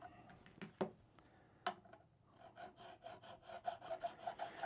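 Stainless steel guitar frets are filed and sanded by hand, a close, quiet rasping with a few sharp strokes and then a quicker run of short rubbing passes.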